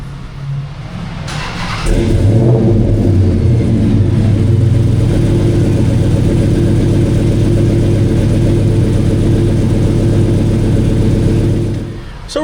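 A car engine running a steady-state pull on a Mainline Prohub chassis dyno: it rises quickly to a loud, sustained droning roar that holds nearly constant for about ten seconds, then eases off.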